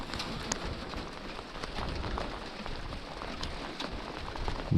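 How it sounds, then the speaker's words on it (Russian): Light rain falls outdoors at a fishing spot, a soft steady patter with scattered drop taps, faint and continuous with no talk. "Дождичек поливает."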